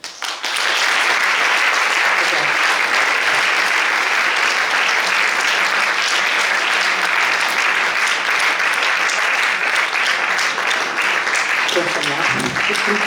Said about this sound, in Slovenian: Kar še lahko ploskate.